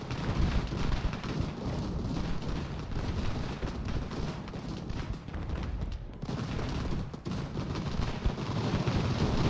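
Troops opening fire in Ultimate General: American Revolution: a continuous loud din of massed musket and artillery fire rumbling with scattered crackling shots, running steadily throughout at close range.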